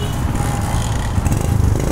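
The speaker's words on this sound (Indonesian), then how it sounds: "Naik ojek aja gitu. Pakai motor ini aja." A motorcycle used as an ojek taxi runs steadily with a continuous low engine drone throughout, close and fairly loud, with no talk over it.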